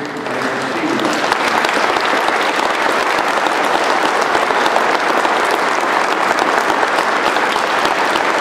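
A church congregation applauds newly confirmed members, steady dense clapping that fills the room continuously from start to finish, loud and sustained without pause.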